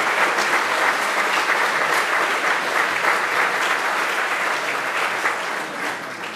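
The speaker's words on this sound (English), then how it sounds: "you can go ahead and applaud for them" Sustained audience applause at an alumni association event, a dense steady wash of many hands clapping that holds strong throughout and eases slightly toward the end.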